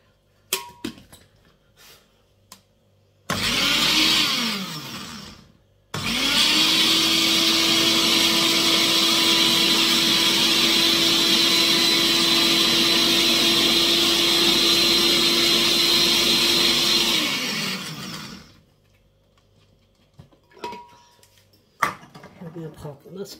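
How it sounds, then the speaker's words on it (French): A honey and aloe vera soap base being blended with a powered mixer, a steady loud whir that starts briefly, pauses, then runs continuously for about twelve seconds before stopping, with quiet handling noises around it. "Donc maintenant, on va venir mélanger et bien pour que tout soit bien diffusé"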